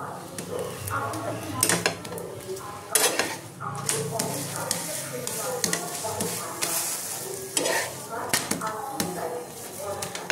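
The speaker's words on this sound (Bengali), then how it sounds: "এরকম করে আমি সবকটা ভেজে নেব।" Flatbread rotis fry in a pan for chicken rolls, with soft sizzling under frequent clinks and scrapes of a utensil against the cookware, close and fairly quiet.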